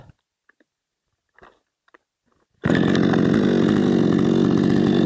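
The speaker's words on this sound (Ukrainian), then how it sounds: "бензопила працює добре" After a few faint clicks and knocks, a Zomax 5200 chainsaw, just repaired after failing to start, roars to life and runs loud and steady at close range.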